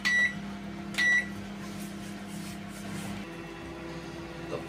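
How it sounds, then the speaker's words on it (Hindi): A Panasonic microwave oven hums steadily as it runs with a dish inside, broken by two short beeps near the start and a slight shift in the drone toward the end. "बिना लीड के इस बार पैनासोनिक माइक्रोवेव अवन में"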